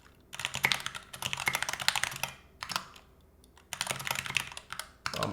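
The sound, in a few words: typing on NK65 prototype mechanical keyboard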